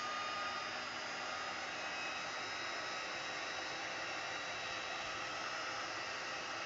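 A heat tool blows hot air from underneath to warm gilding leaf adhesive until tacky, a steady, moderately faint hiss that stays constant throughout with no talk.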